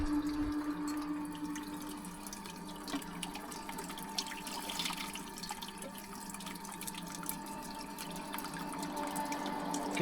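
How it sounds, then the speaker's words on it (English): A pump draws water up through a pipe for a natural swim pond, giving a steady watery gurgle with drips and hum, close and fairly quiet. "You can hear the tone changes. Now it's pumping, obviously. Lots of air."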